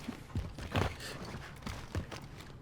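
Enemy footsteps in Call of Duty: Warzone, a soft run of scuffing, thudding steps moving at a steady walking pace. The sound is moderately close and heard alone, with no voices over it.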